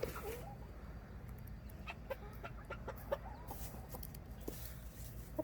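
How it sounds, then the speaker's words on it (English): A pile of six young chickens about 18 weeks old clucks and chirps softly close by, with scattered short calls over a low background hum. "I got 6 chickens in this pile right here."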